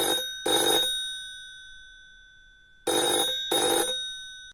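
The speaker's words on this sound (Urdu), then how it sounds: "فون کی گھنٹی بجی۔" An old telephone bell rings in two short double bursts, loud and close, with a long silent gap between the pairs and nothing else heard.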